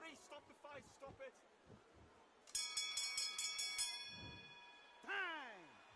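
A boxing round bell in the video game Undisputed rings in a rapid run of bright metallic dings for just over a second, framed by excited commentator voices before and after.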